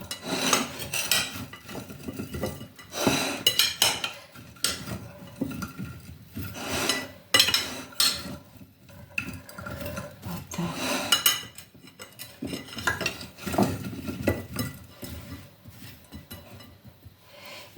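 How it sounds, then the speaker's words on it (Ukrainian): A spoon scrapes and clinks against a bowl in steady, repeated strokes, close and clear, as dinner food is stirred in a kitchen. "Зараз все змішаю. Ложку взяла."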